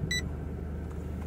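Short electronic beeps from a reverse parking sensor on a Honda BR-V, a quick burst near the start over steady low rumble of the car.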